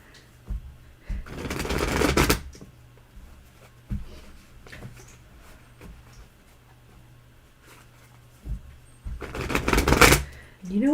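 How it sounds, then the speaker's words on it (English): A deck of tarot cards being shuffled, heard as two bursts of rapid riffling about eight seconds apart over a steady low hum, with quieter shuffling and handling between them. "You are shuffling."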